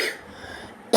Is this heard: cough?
yes